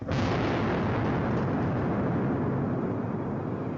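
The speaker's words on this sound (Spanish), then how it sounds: "el fuego brota con una explosión, un espectáculo aterrador" A fire explosion from a safety film on explosive atmospheres: a sudden loud burst followed by a sustained, dense roaring rumble of flames that barely fades over several seconds.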